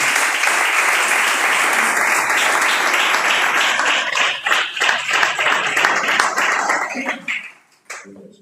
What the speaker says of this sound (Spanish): dale un fuerte aplauso si te están llamando